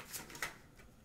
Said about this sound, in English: we're going to shuffle one more time, and also, too, I will then cut the cards